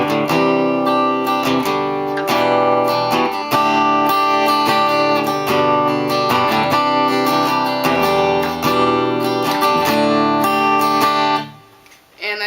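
An acoustic guitar plays the intro and verse chords of a song, with steady, ringing strummed chords heard up close and alone before they cut off near the end.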